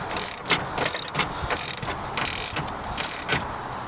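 A ratchet tightens a Gen 1 Chevrolet Cruze driver's window regulator, giving repeated bursts of rapid clicking in an uneven rhythm, close and clear with no talking.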